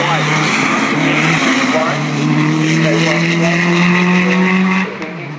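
Rally cars race at Cadwell Park, a BMW M3 among them, with loud sustained engine drone and rising gear tones throughout, under continuous commentary.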